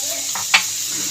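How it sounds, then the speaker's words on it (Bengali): Katoa data vegetable stems sizzle in hot oil, a brief steady frying hiss with a single sharp clink of a utensil against the pan midway, close and clear. "ওই গরম তেলের মধ্যে দিয়ে দেবো ডাটাটা"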